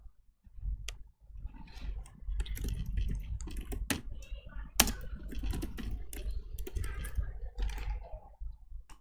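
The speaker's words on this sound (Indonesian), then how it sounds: "Kemudian kita ketikkan paragraf yang kedua." Rapid keystrokes on a computer keyboard as a paragraph is typed into Microsoft Word, a dense, uneven stream of close clicks with a few louder key taps and brief pauses.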